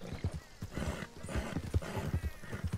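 A horse's hooves clip-clop in a brisk, steady rhythm on the ground in Red Dead Redemption 2, close and busy, with a brief neigh-like snort and no talk.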